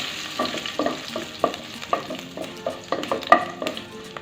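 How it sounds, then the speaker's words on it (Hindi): Cumin, mustard seeds and curry leaves sizzle and crackle in hot oil for rava upma, with a close, steady frying hiss broken by regular clinks of a spoon stirring the pan, no voices. "राई और कड़ी पत्ता हल्का सा भून चुका है।"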